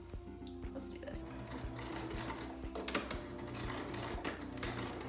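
A sewing machine runs steadily, stitching cotton fabric for a medical face mask, its rapid mechanical needle hum continuous and close throughout, with a back stitch at the ends.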